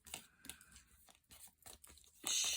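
Astral oracle cards being shuffled, a quiet series of short papery rustles and flicks in uneven bursts, ending in a louder brushing swish.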